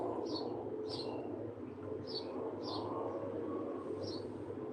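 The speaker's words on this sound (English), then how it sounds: "You hear the birds chirping?" Faint birds chirp outdoors on a fine day in short, high, scattered calls, about six of them, over a steady background hum.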